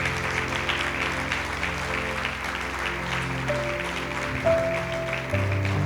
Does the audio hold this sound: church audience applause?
yes